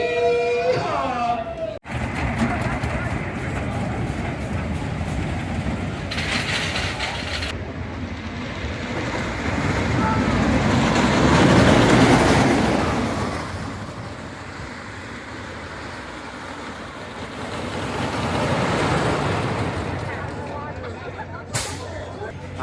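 Renegade, a roller coaster that drops 91 feet and goes upside down, roars along its track in a continuous rumbling rush of wind and wheels, swelling louder at midpoint and again near the end, with people talking briefly at the start.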